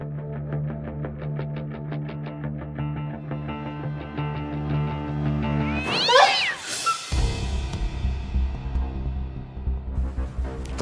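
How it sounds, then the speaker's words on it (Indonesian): A cat meowing in a kitchen at night, with drawn-out tonal cries that sound buzzy and distorted, including one sharp rising yowl midway. "Ternyata cuma kucing"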